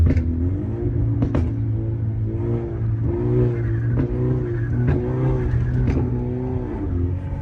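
A BMW N20/N26 engine with an upgraded turbo inlet revs hard through a downshift, with its loud, close, steady drone rising and falling in pitch and sharp blips between the gears.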